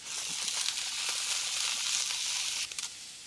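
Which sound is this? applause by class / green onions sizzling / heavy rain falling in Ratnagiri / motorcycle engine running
green onions sizzling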